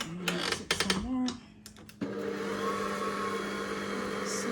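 After some clatter and brief handling sounds, an electric mixer starts up and runs steadily through cake batter with eggs just added, giving a continuous whirring drone at moderate level.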